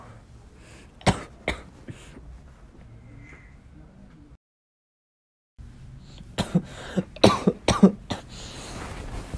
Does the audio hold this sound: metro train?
no